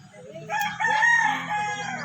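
A chicken in a backyard flock gives a drawn-out, rising vocal call, close and fairly loud, with soft low clucks and faint farmyard background around it.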